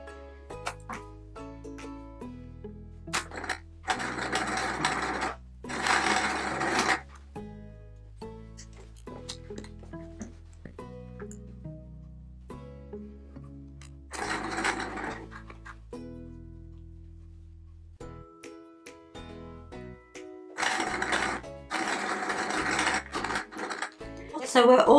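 A domestic sewing machine stitching patchwork quilt panels together in several short whirring runs separated by pauses, with background music playing throughout.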